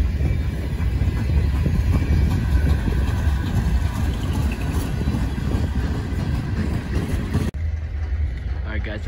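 A slow freight train crawls along the rails in cold weather, a loud, close, continuous low rumble of rolling cars and engine drone that holds steady before cutting off abruptly near the end.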